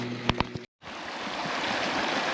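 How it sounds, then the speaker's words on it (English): Thermal runoff stream flowing near Imperial Geyser, a steady rushing water hiss after a couple of brief knocks and a short gap, close and continuous. "I can't get over how this little stream here, like that's a lot of water, and it's all thermal air."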